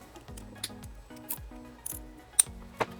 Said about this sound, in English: I'm going to cinch it down, cut off my excess